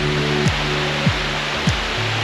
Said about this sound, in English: All right, Quinn, you got your waterfall in here now